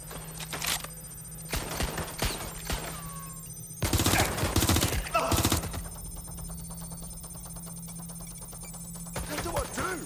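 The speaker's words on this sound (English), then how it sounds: "Gunfire!" Bursts of video game gunfire in Watch Dogs Legion, a rapid automatic volley loudest in the middle with scattered shots before, over a steady electronic hum and game music.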